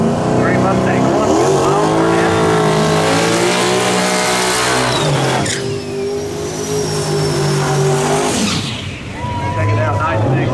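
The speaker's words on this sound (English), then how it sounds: "Nice big funky burn out for Wild Barnett." Drag racing car doing a big burnout on the line during tire eliminations at a cash-days event: a loud, continuous roaring engine with tire squeal and a rising rev, under an announcer talking over a PA.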